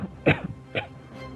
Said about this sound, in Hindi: वो धुएं से परेशान होकर खांसने लगता है।